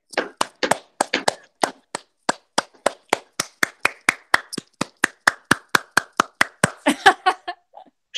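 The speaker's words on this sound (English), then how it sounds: "we're just going to clap those years" A workshop group claps in unison on a count, roughly thirty sharp claps in a steady rhythm that gradually thins and loosens toward the end, close and clear with no talk over it.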